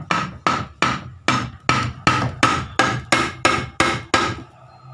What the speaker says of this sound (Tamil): இப்போ நான் கியர் பாக்ஸை வெளியே எடுக்கிறேன், உங்களுக்கு லைட்டாக இதை தட்டிக்கலாம்